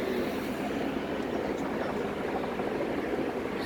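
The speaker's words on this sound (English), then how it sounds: "These helicopters above." Helicopters hover above a crowd where an MTA bus is being removed from a house, a steady distant rotor drone with no clear beat and no voices.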